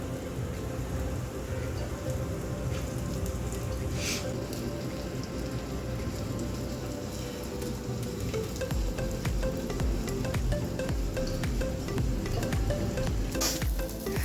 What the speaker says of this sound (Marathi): चर चर चर चर वाजते आता